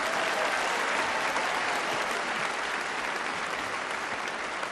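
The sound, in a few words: audience applause at Miss World 1976 pageant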